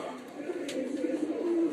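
A young female dove coos softly up close, low rolling calls repeating in a gentle, throaty rhythm against light background noise.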